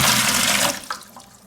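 Water poured into a bucket to start mixing non-sanded grout for a kitchen tile backsplash, a loud splashing gush that tapers off into a few trickles and drips.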